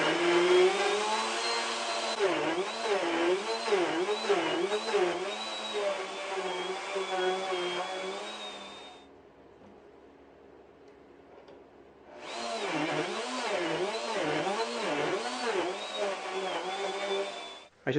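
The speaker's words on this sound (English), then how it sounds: "I'm going to cut the slots on my slot mortiser" A slot mortiser cuts mortise slots in wood for king-size bed rails, its motor whining loudly with a regular pulsing rhythm as the cutter sweeps back and forth. It stops for a few seconds, then the same cutting resumes.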